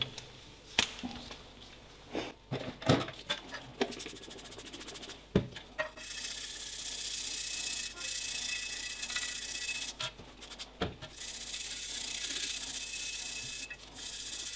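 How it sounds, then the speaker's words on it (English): Nylon brush scrubbing a 1953 Mamod SE2 toy steam engine boiler with a kitchen degreaser, starting as scattered scrapes and rubs and then settling into steady brisk scrubbing, with a few short pauses. "I use a nylon brush, not a metal brush."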